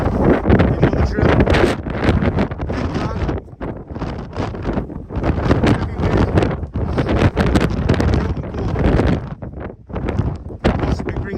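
Strong wind buffets the microphone on a UK winter camping trail in sub-zero cold, loud gusty rumbling and roaring in uneven surges with brief lulls, under someone talking.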